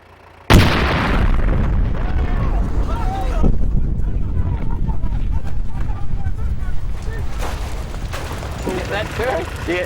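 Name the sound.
large explosion of a target, turret thrown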